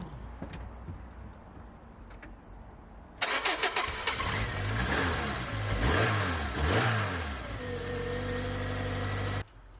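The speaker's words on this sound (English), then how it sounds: "It already started up like it's a new car." A 29-year-old pick-up truck engine cranks and catches after a quiet pause, then revs up and down in several loud swells before settling to a rough idle and cutting off abruptly.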